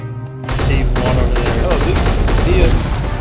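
Loud explosions and blasts in the game Space Engineers, bombs going off during a raid on an HQ, a sudden burst of dense booming and crackling that keeps rumbling for about three seconds, with excited voices reacting over it.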